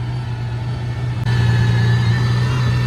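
An Aston Martin Valkyrie hypercar, seen while carspotting at a car show, holds a steady low engine hum that jumps slightly louder midway, sounding near and continuous.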